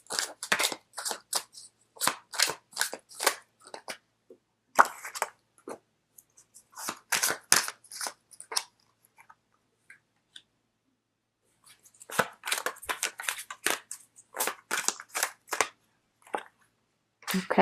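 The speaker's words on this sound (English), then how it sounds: "So let me just pull out. Let's do 3 cards." Tarot cards being shuffled and handled in bursts of crisp riffling and slapping, with short pauses between, close and fairly quiet, no talking.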